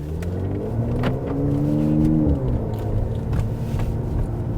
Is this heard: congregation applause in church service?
no